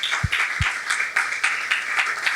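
Scattered clapping from a church congregation at Iglesia Salem after a praise to the Lord, moderately quiet and uneven, with a couple of distinct low thumps early on.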